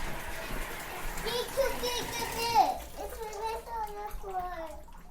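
Young children splash and play in about an inch of water in a shallow bathtub at home, with light sloshing beneath their loud, excited chatter and squeals throughout.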